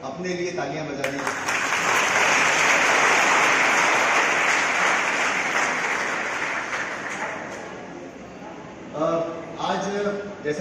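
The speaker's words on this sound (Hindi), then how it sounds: "एक बार अपने लिए तालियां बजा दें।" An audience claps at a collector's voter-outreach event before a Lok Sabha election, with loud, dense applause swelling up and gradually fading, and a voice speaking briefly at the start and again as the clapping ends.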